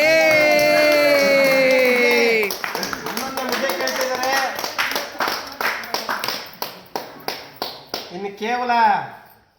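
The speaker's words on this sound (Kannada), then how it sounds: "ಚಪ್ಪಾಳೆ" A small group claps in brisk, uneven bursts after an eating challenge of ragi mudde with sambar, following a stretch of loud voices; people shout and talk around the clapping.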